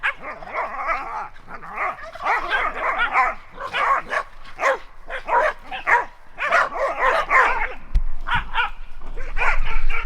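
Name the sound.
dogs barking while playing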